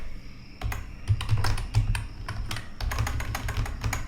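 Bursts of typing on a computer keyboard while writing code, clusters of crisp close keystrokes with short pauses between runs, no voice.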